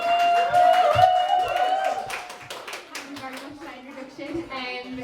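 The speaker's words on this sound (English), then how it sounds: "Please show your appreciation and applause" An audience claps for a performer at the Transtock 2 event at The Globe in Newcastle. The clapping is close and busy, with voices and tonal sound over it, then it thins out.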